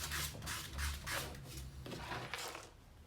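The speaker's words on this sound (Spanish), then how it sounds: "para eso hay que lijar bien esto y que esto quede lo más prolijo posible" Hand sanding of wood for a pocket-hole joinery project, heard as a steady rasping rub in repeated back-and-forth strokes, close and fairly loud, with no talk.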